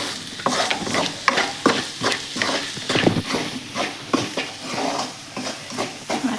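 Masala paste for beef curry being stirred and roasted in a pan, heard as close, rhythmic scraping strokes over a soft sizzle, with no talking.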